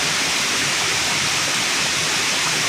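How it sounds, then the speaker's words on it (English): Low-flow waterfall on a spring nature hike, a steady broadband rush of falling water heard close and alone with no voices. "Usually there's so much water coming over that waterfall that it doesn't look like a very pretty curtain. It's just like this big gush of water."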